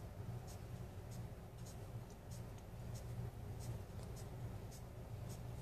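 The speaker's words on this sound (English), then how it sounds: "So I'm going to start by just pulling my pencil over that way, create some nice contour lines." A pencil drags across paper in rhythmic strokes while contour lines are drawn for a shaded pepper, faint scratchy swishes repeating about twice a second over a low background hum.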